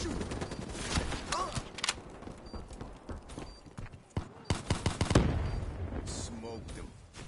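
Rapid bursts of gunfire from a PS4 shooter game crack in quick clusters, with a voice speaking between the shots.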